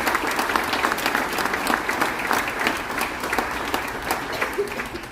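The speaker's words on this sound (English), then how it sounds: "can we please give a big round of applause" Loud, sustained applause from a large crowd at a veterans tribute aboard the cruise ship Enchantment of the Seas, dense clapping that continues evenly throughout.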